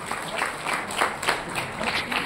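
Audience applause at a film community event at the Andhra Association on Lodhi Road, New Delhi, as performers are called to the stage: steady, dense clapping of moderate loudness, with slight swells throughout.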